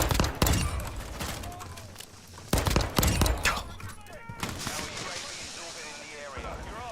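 Video game gunfire comes in sharp, loud bursts of rapid shots with short pauses between volleys, while a voice talks over the action.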